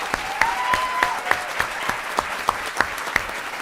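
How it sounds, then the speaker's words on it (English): Steady applause from a crowd at a school board meeting, many hands clapping continuously with a few sharper claps and a faint whistle standing out near the start. "So let's give her another round of applause."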